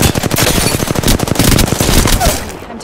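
Rapid automatic gunfire in the video game Apex Legends fires as a fast, even burst of sharp shots, loud and close, running almost continuously before it trails off at the end.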